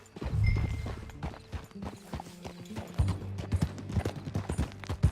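Horse hooves clip-clop in a steady walking rhythm in the video game Red Dead Redemption 2, close and moderately loud, with a brief horse snort near the start.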